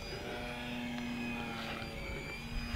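E-Flite Eratix 3D flat foam RC plane in flight: a steady electric motor and propeller whine with a sustained tonal buzz, fairly close and constant, with no talking.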